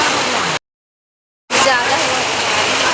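Heavy rain pours down in a steady, loud broadband wash, cut by a sudden silent gap before resuming, with a voice speaking over the downpour.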